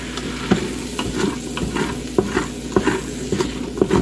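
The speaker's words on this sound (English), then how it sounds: "Stir this around and let the chickpeas cook a little bit." Chickpeas from two drained, rinsed cans are stirred in a hot pot for a spiced chickpea chicken stew with coconut and turmeric: a spoon scrapes and knocks at irregular intervals over a steady low sizzle, close and moderately loud, with no talk.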